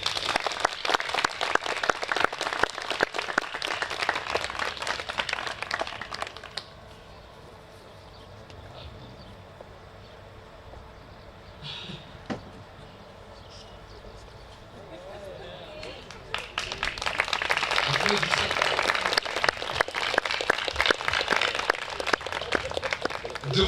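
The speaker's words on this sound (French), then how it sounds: "Applaudissez." Wedding guests break into applause at a ceremony in Orléans. Loud, dense clapping runs for several seconds, drops to a quiet stretch with faint room sounds, then swells again into vigorous sustained applause.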